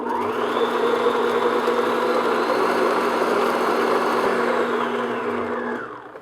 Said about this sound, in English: I'm going to beat this on medium-high speed, probably 3-4 minutes